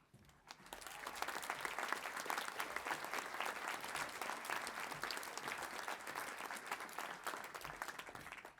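An audience at a university graduation ceremony in Chelmsford breaks into sustained applause once the final graduands are presented, a dense, even clapping that rises quickly and holds for about eight seconds before tapering off.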